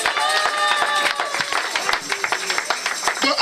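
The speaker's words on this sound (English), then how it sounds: "Come on, let's clap for Jesus." A church congregation claps together at a Thanksgiving service, dense rhythmic handclaps filling the room over singing voices and a crowd murmur, loud and close throughout.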